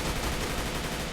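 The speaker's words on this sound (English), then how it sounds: "Absolute just gunfire over there." Dense, continuous gunfire in the video game Army Men: Plastic Wars crackles in a rapid volley, loud and unbroken, like a heated firefight with overlapping shots.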